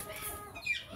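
A hen clucks softly while laying an egg, a brief, faint burst of throaty clucking heard alone at close range.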